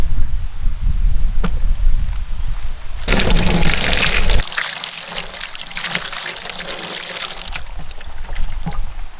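Water is poured over meat being washed by hand in a village kitchen, a loud rushing gush for a couple of seconds followed by softer splashing and trickling.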